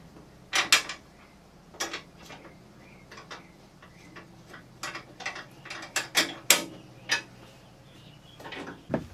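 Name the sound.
inner bolt being started on a Dragonfire door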